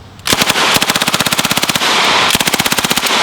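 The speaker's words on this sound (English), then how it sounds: "It's known as a Thompson submachine gun." Thompson submachine gun emptying a full magazine of .45 ACP in rapid bursts, loud and close, with sharp repeated shots in long strings and a short pause between runs.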